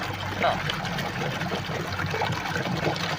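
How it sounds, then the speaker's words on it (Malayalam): Water trickles steadily and continuously through a rock crevice close by, a constant splashing flow with no pauses. "ഈ പാറയ്ക്കകത്തൂടെ വെള്ളം ഒഴി വരുന്നുണ്ട്"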